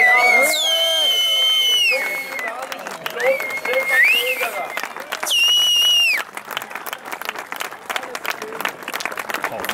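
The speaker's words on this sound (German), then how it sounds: "Bitte einen riesen Applaus für den Abend." Spectators at a night-flight helicopter show applaud in a dense burst of clapping, with shrill whistles rising above it and a pause before a second whistled swell.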